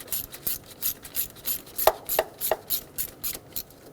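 Bolt on a 2.7L four-cylinder Toyota Tacoma VVT solenoid being run in and snugged down with a ratchet, a close rapid series of clicking pawl strokes at an even rhythm with a few sharper metallic ticks.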